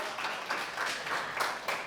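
Short burst of audience applause in a church, a soft, steady patter of many hands clapping with gentle rhythmic swells, fairly faint.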